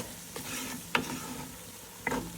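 A flour roux for Cajun chicken gravy sizzles and bubbles in a pan, a soft steady frying hiss broken by a few quiet scrapes as it is stirred, with no one talking.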